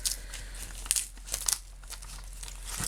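Crinkly plastic film peels away from paper in short crackling bursts, close and fairly quiet, with brief pauses between pulls.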